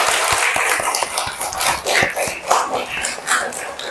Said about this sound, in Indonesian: silakan beri aplaus dulu untuk semua teman-temannya